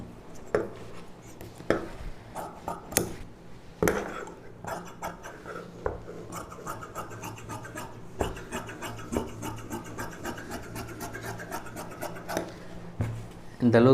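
Scissors cut saree fabric for a frock sleeve: irregular snips, scrapes and cloth rustles come close by in uneven bursts, with brief pauses between cuts.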